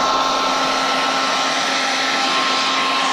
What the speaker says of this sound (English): Probably the worst idea to use an electric hairdryer next to all of